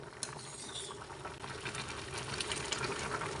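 Papaya boiling in a pot of water on a stove, a close steady bubbling and burbling with occasional soft knocks, no talk.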